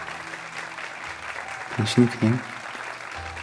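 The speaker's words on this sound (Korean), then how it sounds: "관객들의 박수갈채와 함께 막이 내린 공연" A theater audience applauds as the curtain falls on a stage performance, a steady wash of clapping running underneath a voice that speaks briefly in the middle.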